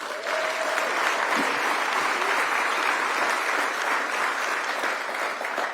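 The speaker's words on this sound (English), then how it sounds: "Round of applause for Joey as well." Audience at a runway groundbreaking ceremony for Raleigh-Durham airport breaks into steady applause, a dense sustained clapping that fills the space at moderate volume with little else heard.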